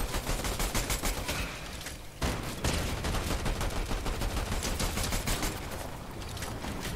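Sustained bursts of rapid gunfire from another team fighting in Fortnite, loud and dense with a brief gap partway through before the shooting resumes just as heavily.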